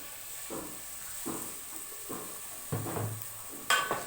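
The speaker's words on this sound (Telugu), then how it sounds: "కూరగాయలు యాడ్ చేస్తున్నానండి." Chopped vegetables for a vegetable palav are added to fried garlic paste in a pan, giving a soft hiss of frying broken by several quiet stirring scrapes and a sharper clank near the end.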